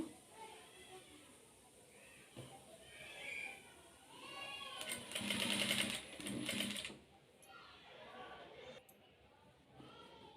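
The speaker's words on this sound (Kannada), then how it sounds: "ಈ ರೀತಿ ಸ್ಟಿಚ್ ಮಾಡ್ತಾಯಿದ್ದೀನಿ" A sewing machine stitches a boat neck blouse, its motor whirring in steady runs that swell louder midway, with someone talking over the stitching.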